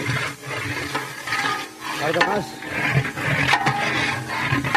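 An assistant stirs a large pot of vadi biryani, the ladle scraping and churning in steady rhythmic strokes, close and fairly loud, amid busy kitchen noise with people talking nearby.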